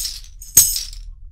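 A Meinl foot rattle on a cajon player's leg is shaken by lifting the whole leg, giving one sharp, bright jingling crash that rings briefly over a quiet low hum.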